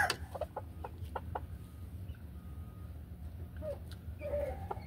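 A prize-winning Lemon Grey Talisayin fighting rooster, a three-time winner, gives several short, close clucks and low throaty calls over a steady background rumble.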